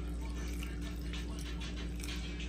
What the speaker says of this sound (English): take some of our water from the plantains that was boiling in and add it